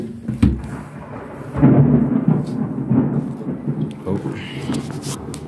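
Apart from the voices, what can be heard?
thunder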